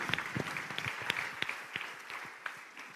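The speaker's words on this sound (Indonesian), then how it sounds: "Beri tepuk tangan dulu" Audience applause in a lecture hall, a steady wash of many hands clapping with scattered louder claps, continuous throughout.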